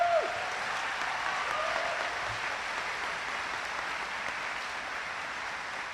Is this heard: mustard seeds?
no